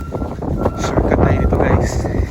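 Strong wind blows hard during a snowstorm in Canada, a loud, close roar buffeting the microphone in heavy gusts.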